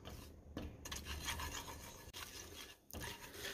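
Gram flour being stirred and roasted in milk in a cooking pan over a very low flame, giving a steady scraping, rasping sound with brief pauses.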